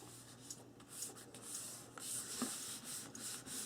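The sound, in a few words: burnishing paper pages onto an album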